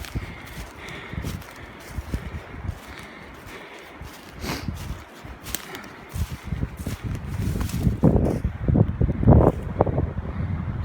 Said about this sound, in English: It's a windy, wet day.